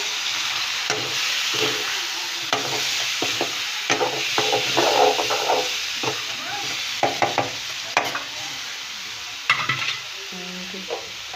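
Onions, tomato and garam masala frying together in a pan for chicken kofta curry, a steady sizzle broken by irregular spoon scrapes and clatters as the mixture is stirred, close and without speech.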